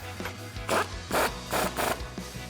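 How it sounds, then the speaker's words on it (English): An impact wrench with a 21mm socket drives a nut onto a sway bar end link on a 2008-2023 Dodge Charger HEMI, giving four short, loud rattling bursts in quick succession with brief pauses between them. "Using our 21mm socket on our impact, we can tighten that down"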